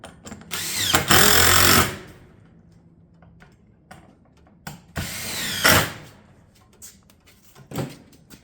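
A power driver fastens tile battens to a barrel vault roof, with two loud bursts of whirring and several sharper knocks and clicks between them, close and alone without talk.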